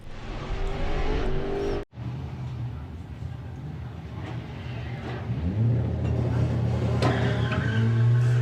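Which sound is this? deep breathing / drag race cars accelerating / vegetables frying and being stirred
drag race cars accelerating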